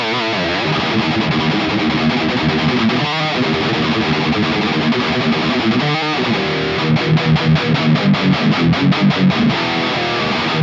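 Heavily distorted electric guitar played through the FLESHROT amp suite plugin plays loud chugging riffs, ending in a run of fast palm-muted stabs.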